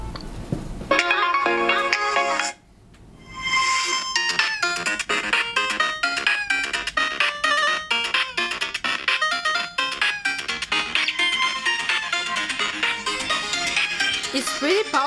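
Ringtone melody played loud through the speaker of a budget Huawei Y6s smartphone, dense and continuous with a brief dropout near the start, then steady tonal music throughout.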